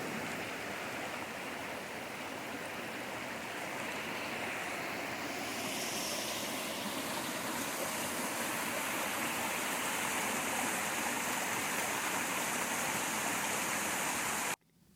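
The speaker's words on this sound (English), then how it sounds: "Follow this beautiful little creek up all the way through." A small creek in East Tennessee flows steadily, a constant broadband rush of water heard close and alone, with slight wind near the end before the sound cuts off abruptly.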